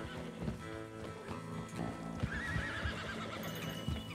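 Wild horses in Red Dead Redemption 2 whinny and neigh repeatedly over quick clip-clopping hooves at a gallop, a busy, fairly close game soundscape with no speech over it.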